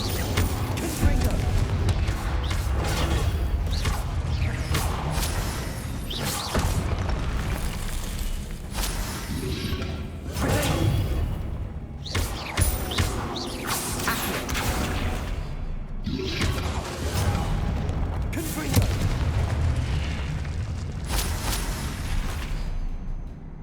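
Confringo blasting spell in the Hogwarts Legacy video game: repeated booming fiery explosions with whooshes, loud and dense, mixed with game music and combat noise throughout.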